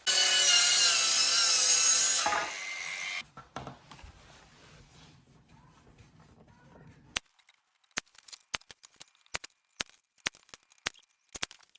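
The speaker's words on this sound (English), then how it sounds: "next thing we're going to do, we're going to cut it out and add it to the trim" Wood cut for interior window trim, a loud continuous power-saw whine for about three seconds that winds down, followed by a quieter stretch and a series of sharp scattered knocks and taps.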